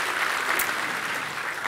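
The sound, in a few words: congregation applause in church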